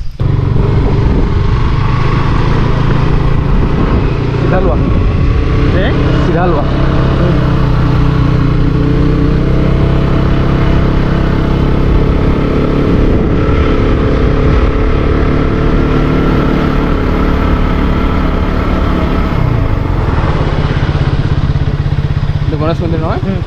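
A motorcycle engine runs steadily and loudly in a parking lot for the whole stretch, a constant drone with slight wavering, while someone talks over it.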